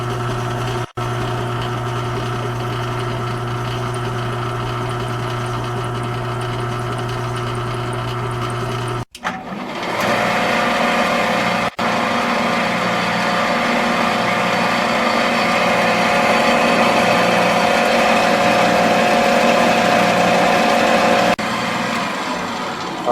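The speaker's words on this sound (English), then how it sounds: "we have already successfully run our motor from star and then after 10 seconds to delta configuration" An electric motor runs with a steady hum, stops briefly, then comes back with a stronger, fuller whine as it switches from star to delta configuration, holding loud and constant afterward.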